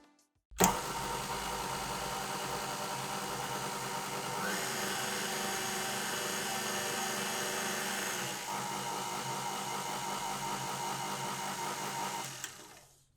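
A 300-watt KitchenAid Artisan stand mixer motor whirs steadily and close for about twelve seconds, stepping up in pitch and loudness partway through as the speed changes, then dropping back before cutting off.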